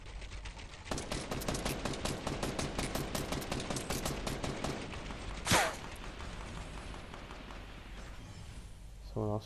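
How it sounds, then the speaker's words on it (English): Automatic gunfire in Fortnite Battle Royale, a fast, even burst of repeated shots over several seconds, followed by a single louder blast and then quieter sound, with talk over it. "Someone else shooting at him?"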